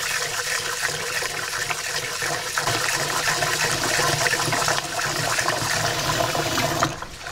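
Rice is washed by hand in cold water in a bowl, a continuous close sloshing and swishing of water stirred around, steady and fairly loud before easing off at the end.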